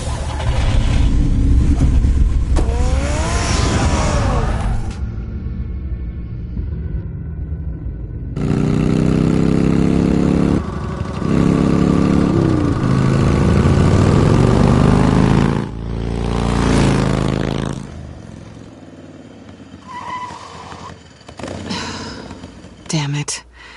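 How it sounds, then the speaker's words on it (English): Batmobile-style car engine in the Telltale Batman game revs and roars in loud bursts, broken by quiet gaps, with engine drone mixed under dramatic game sound and a few breaths. "Get the car ready, Alfred"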